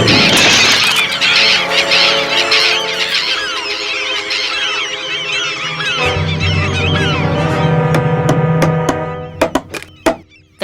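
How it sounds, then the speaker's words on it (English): Loud, overlapping harsh honking and squawking calls of gulls fill the scene, followed at the end by a few sharp knocks and thuds. "seagull!"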